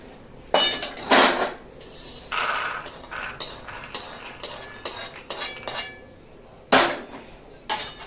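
Roasted peanuts for sesame-jaggery tilgul ladoo are scooped from a pan into a dish, giving a series of close metallic clinks, scrapes and rattling pours at irregular intervals, some louder bursts standing out.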